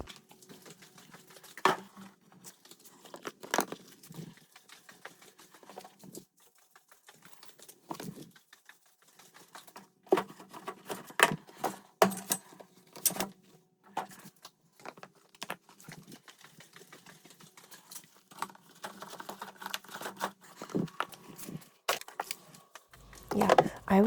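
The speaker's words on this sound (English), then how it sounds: "I cannot get enough of this pitter patter of me walking around on this super speed mode." Rapid sped-up footsteps patter across the floors of a house during late-night cleaning, a quick run of light taps and knocks spread through the clip with brief pauses and a few louder thumps.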